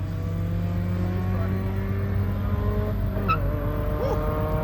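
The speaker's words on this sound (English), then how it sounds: "Woo. Those gear changes" Drag-racing cars at a night car meet, a BMW M5 against an Audi S3, rev hard. The engine whine climbs, then drops sharply at a gear change before rising again, heard from a moderate distance over steady background noise.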